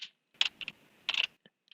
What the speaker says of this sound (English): Then I can continue typing.